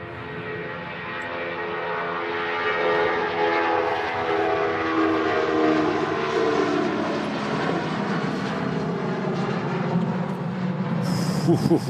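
Rolls-Royce RB211 engines on a Jet2 Boeing 757 on final approach at Manchester Airport give a loud, steady, rising roar that fills the whole stretch with no break.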